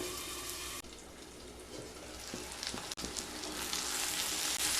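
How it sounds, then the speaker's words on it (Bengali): Fish curry ingredients, onion and tomato among them, cooking slowly in a pan on low heat, a steady close sizzle with scraping stir strokes and a sharp clack partway through, no talking. "এবার একদম লো স্টিমে সমস্ত উপকরণগুলোকে 10"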